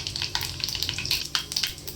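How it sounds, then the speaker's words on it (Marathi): Cumin and mustard seeds crackle and sizzle in hot oil as a tempering for a Marathi potato bhaji, with dense close frying hiss and quick popping bursts throughout. "जिरी मोहरीची फोडणी देते"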